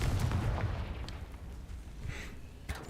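A Confringo fire blast spell in Hogwarts Legacy, a booming burst at the start that rumbles and fades, followed by softer crackles and a sharp pop near the end.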